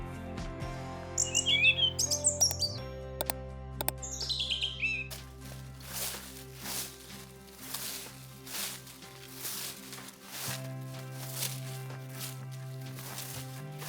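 Birds chirp and tweet briefly near the start, then fade under background music with steady tones and a soft beat.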